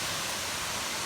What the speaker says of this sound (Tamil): அந்த தண்ணி தான் வந்து அப்படியே அழகாக கீழே வழிஞ்சு வருது.